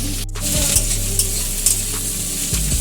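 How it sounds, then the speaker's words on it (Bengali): Onions frying in a pan for a spicy mutton curry, a steady loud sizzle with a few scraping stirs and a clatter of utensils near the start, no talking. "পেঁয়াজটা দেখতে পাচ্ছ, ভালো করে আমরা লাল লাল করে ভেজে নিচ্ছি এখানটাতে"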